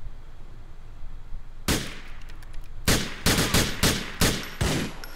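Gunfire in the video game Grand Theft Auto IV, with a shotgun in play: after a quiet stretch, a series of loud, sharp blasts arrives in irregular bursts, several shots close together.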